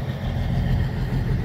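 A tractor engine idles steadily in cold, snowy weather, giving a low, continuous rumble that stays close and even throughout the short stretch, with no talking.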